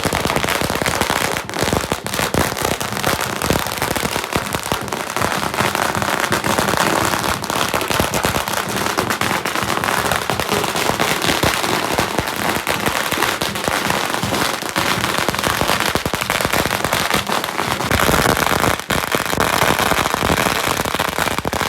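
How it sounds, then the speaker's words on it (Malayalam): Firecrackers bursting at a Chinese New Year celebration with a dragon dance outside an Asian market, a dense, continuous rattle of loud rapid cracks lasting throughout, close and overwhelming. "പടക്കം പൊട്ടിക്കുക, അതൊക്കെ ഉണ്ടാവാറുണ്ട് കേട്ടോ"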